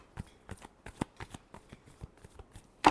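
Tarot cards are shuffled by hand in quick, crisp riffling taps, a steady run of soft flicks ending in one sharper snap, close and quiet with no talking.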